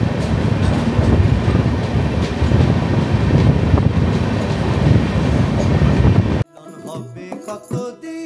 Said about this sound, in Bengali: এটা হচ্ছে অমৃতসর জংশন থেকে মুম্বাই পশ্চিম সুপারফাস্ট এক্সপ্রেস।